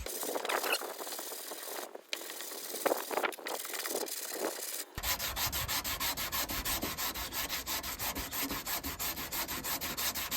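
Fiberglass on a car mirror for an MK3 Supra drift build is sanded by hand, irregular scratchy rubbing at first and then fast, even back-and-forth strokes, close and fairly quiet.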